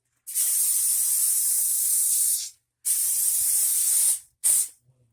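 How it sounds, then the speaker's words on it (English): Two long hissing bursts of non-stick cooking spray onto foil, each about two seconds, followed by a brief short spritz, close and fairly loud with no talking. "we're just going to go ahead and spray it on."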